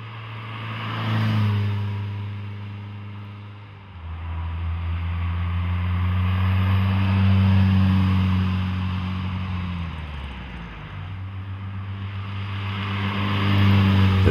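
A Ferrari 328 GTS sports car drives past with its engine note swelling and easing: a rising approach, steady cruising, then a brief dip and renewed pull. No voices are heard.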